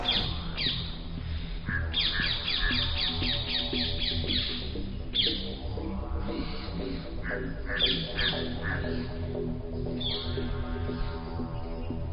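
Crows caw and squawk harshly and repeatedly around an eagle owl, several birds calling over one another in a continuous, busy chorus at close range.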